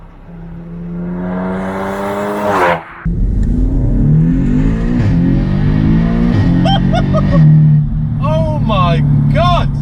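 A 530bhp Audi S3 engine revs hard and accelerates, its loud climbing whine stepping through gear changes with a short break, while excited voices shout over it close by.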